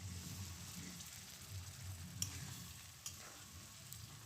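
Radish leaf paste fries quietly in a pan, a soft continuous sizzle with a few faint stirring scrapes and ticks.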